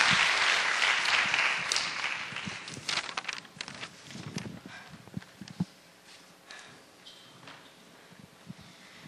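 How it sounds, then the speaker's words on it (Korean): A church youth worship audience claps in welcome for a speaker, a dense burst of applause that starts strong and gradually thins into scattered claps and rustling. "우리 힘차게 환영의 박수로 함께 맞이했으면 좋겠습니다."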